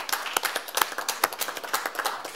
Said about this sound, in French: Un bonne main d'applaudissement